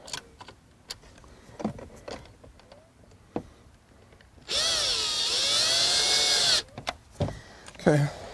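A cordless power drill whines steadily for about two seconds while driving a screw during a 2016 Jeep Wrangler front speaker install, set among scattered clicks, taps and handling noises of the work.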